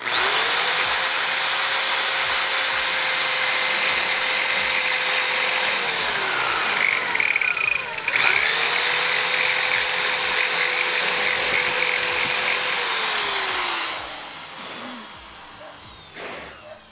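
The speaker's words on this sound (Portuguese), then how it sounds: "Então eu posiciono ela aqui e é só furar." A power drill bores holes into a wall to mount a mosquito screen, two loud, close whining bursts of several seconds each separated by a brief pause, then winding down to quiet.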